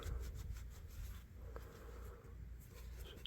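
Rust being rubbed off the blade of a WWII-era US Navy pilot's folding survival knife, quiet repeated scraping and rubbing strokes, close and faint, with no talking.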